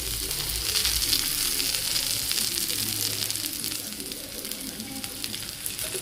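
Chillies fry in a spoonful of oil in a pan, producing a dense, steady sizzle that is close and fairly loud and holds evenly throughout, with no clear talking.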